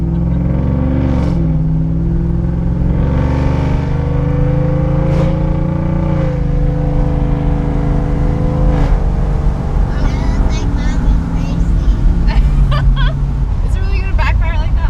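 A Chevrolet Silverado with a loud aftermarket exhaust revs hard, its engine note climbing and falling over a steady rumble, while people talk over it nearby.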